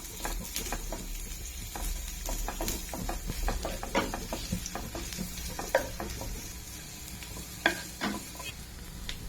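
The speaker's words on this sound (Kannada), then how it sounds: "ಎಣ್ಣೆ ಬೆಚ್ಚಾಯಿನೇ ನೀರುಳ್ಳಿ ಪಾಡ್ಕ ನೀರುಳ್ಳಿ ಗೋಲ್ಡನ್ ಕಲರ್ ಆವಾಡ" Chopped onions sizzle softly in hot oil in a home kitchen pan, cooking toward golden, with scattered clicks and scrapes of stirring over a quiet, steady hiss.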